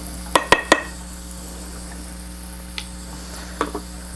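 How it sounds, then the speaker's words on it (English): A rice paddle scrapes around the edges of a rice pot during sushi prep, giving a quick run of three sharp clicks and knocks up close, then a faint lone tap and a last pair of clatters. "use it to gently loosen around the edges of the rice pot so that it makes it easier to get the rice out"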